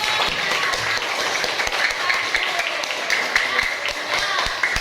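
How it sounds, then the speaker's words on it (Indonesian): Classroom applause for student group 2 after a presentation on recycling, a dense patter of many hands clapping close by and steady for several seconds, with voices mingling underneath. "beri tepuk tangan untuk kelompok 2"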